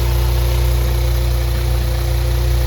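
A tuned Audi S3 8V with a ported exhaust and solid engine mounts idles loud and close, giving a steady, deep, even drone with a vibrating low hum and no change in revs.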